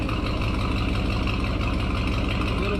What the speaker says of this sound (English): So I'm gonna let it idle a little longer, see if it cleans up.